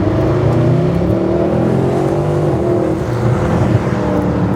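Mercedes SLS AMG engine running in Sport Plus mode, a loud, deep, steady rumble heard from close by, holding its pitch without a clear rev climb.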